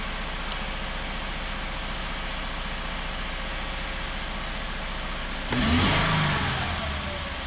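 A Subaru engine idles with one fuel injector disconnected, giving a steady, rumbling idle close by. Near the end a louder, brief surge rises and then slowly settles back.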